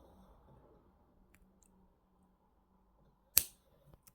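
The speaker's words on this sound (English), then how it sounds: "you just can't cut through the wire, but cut that bit off at the end" Wire cutters snip through titanium wire while making wire-wrap earrings, a single crisp click standing out against near silence, close and brief, followed by faint small handling sounds.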